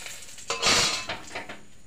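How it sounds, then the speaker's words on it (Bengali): Black cumin and bay leaves fried in oil are stirred with a metal utensil, giving a few brief scraping clinks against the pan over a soft background sizzle. "কালো জিরে দিয়ে দেব। তেজপাতা দিয়ে দেব। ভালো করে নাড়ি চাড়িয়ে নেব।"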